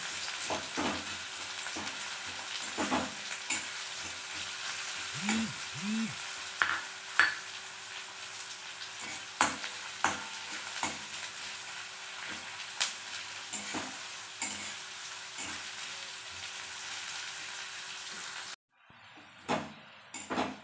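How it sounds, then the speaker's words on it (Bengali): Chopped onion frying in hot oil with a spice tempering for an egg curry made with ground black cumin, a constant close sizzle punctuated by regular spatula scrapes and knocks against the pan, which cuts off abruptly near the end. "পেঁয়াজ কুচিটা দিয়ে ভালো করে একটু ভাজতে হবে"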